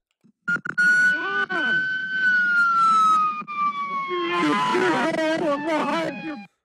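A police siren wails loudly and close by, its tone sliding in long sweeps, then breaking into a rapid yelp pattern near the end.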